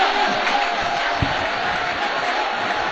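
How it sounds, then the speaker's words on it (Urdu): Steady crowd noise from a poetry recital audience, a broad wash of applause-like hiss with brief shouts rising through it, continuous and fairly loud. "تالیاں بھائی، تالیاں کری، تالیاں تالیاں"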